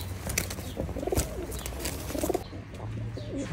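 Male Salara bloodline pigeons give low, throaty coos close by, overlapping in a continuous rolling murmur.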